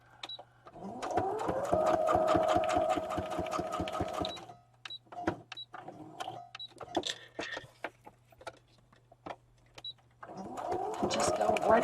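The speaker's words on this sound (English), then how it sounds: "Fighting with the sewing machine." A sewing machine stitches fabric around corners, running in a rapid steady burst at first, then stopping and starting in short jabs, and finally running hard again at the end; the sound is close and loud, and there is no talk.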